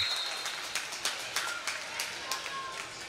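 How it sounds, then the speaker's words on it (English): At a high school wrestling match, a crowd applauds a mat return with scattered claps and a murmur of reaction, distant and moderate, with no clear oohs standing out. "That always oohs and ahs the crowd."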